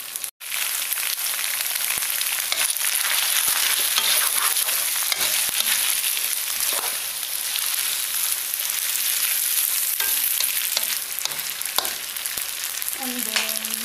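Rice noodles for char kway teow sizzling hard in a hot pan, a dense steady frying hiss that runs loud and close throughout with faint stirring scrapes, no voices.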